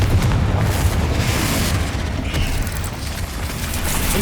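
A Confringo blasting spell detonates in Hogwarts Legacy, a heavy, rumbling explosion with deep low-end boom and debris crackle that stays loud and close across the whole stretch before easing slightly.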